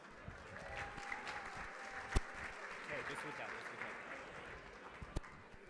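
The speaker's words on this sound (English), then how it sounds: "Give him another round of applause." Light applause ripples through a charity gala auction audience after a winning paddle bid, fairly faint and uneven with a few sharper claps, while people talk and call out over it.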